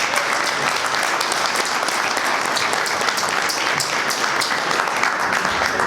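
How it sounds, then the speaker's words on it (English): An audience gives a round of applause to a percussionist before a samba performance, a thick, steady clatter of many hands that holds evenly from start to finish, close and fairly loud. "I'd just like a short round of applause for him for joining."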